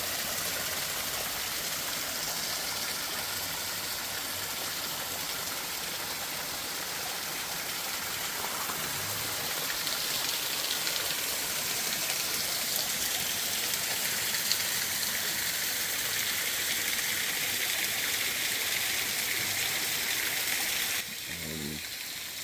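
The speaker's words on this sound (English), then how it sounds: "Beautiful waterfall." Waterfall in Grandfather Mountain State Park, a steady, dense rush of falling water roaring close by without a break, loud and broadband throughout with no talk over it.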